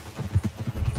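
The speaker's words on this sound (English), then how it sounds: "Okay, get on your horse." A horse's hooves clip-clop in Red Dead Redemption 2, a quick run of rhythmic, muffled thuds at close range with no speech.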